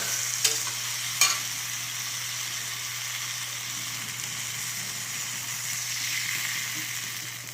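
Water is poured into a frying cauliflower and tomato curry, which hisses and sizzles steadily. A couple of brief clinks sound near the start, then a constant close bubbling sizzle continues with no talk.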